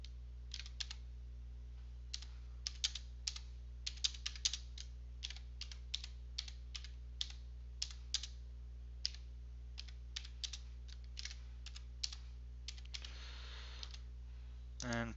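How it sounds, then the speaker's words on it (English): Computer keyboard typing, a quick run of light key clicks in irregular bursts over a steady low electrical hum, fairly quiet and close, ending with a brief scraping shuffle. "Simply type desired text under alternative text."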